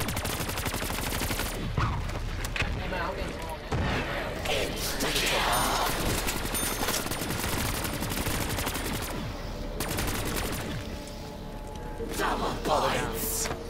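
Rapid bursts of automatic gunfire and single shots in Call of Duty Black Ops 3 Zombies splitscreen play, dense and loud with brief pauses, mixed with game effects and players talking over it.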